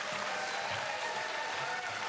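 A debate audience applauds in a steady, moderately faint wash of clapping that lasts throughout, with a voice faintly underneath.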